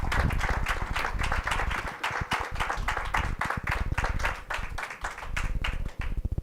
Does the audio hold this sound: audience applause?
yes